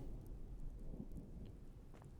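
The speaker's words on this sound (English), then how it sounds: "And it's still storming outside." A low rumble of thunder and steady rain in the Smalland survival game, faint and continuous, heard from indoors during a night storm.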